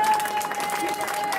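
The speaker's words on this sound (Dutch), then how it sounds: "En applaus voor onze winnaar, Marieke van Witsenbrug." Applause from the crowd for the winner at a village fair, a fairly soft, steady patter of many hands clapping, with a faint tone running underneath.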